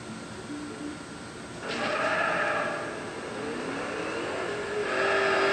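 A car with a twin-screw supercharger accelerates hard on a drag run, its engine note rising in steady pulls, with a whining supercharged roar that swells partway through and again near the end, with no one talking.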